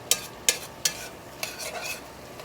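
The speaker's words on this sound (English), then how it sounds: "so we're going to get this all stirred up, and that's going to help that sauce" A spoon stirs flour into beef gravy in a pot, scraping sharply three times in a quick rhythm, then softer strokes follow over a quiet simmer.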